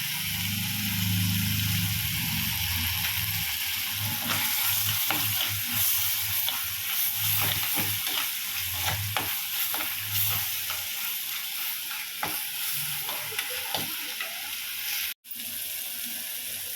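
Tomatoes cooking with ginger and a pinch of turmeric powder sizzle steadily in oil, broken by repeated scrapes and clicks of a spoon stirring the pan, with a low hum running underneath.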